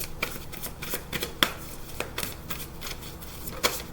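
Tarot cards being shuffled in quick riffling bursts, a steady run of crisp flicks with a few sharper snaps, close and with no talking.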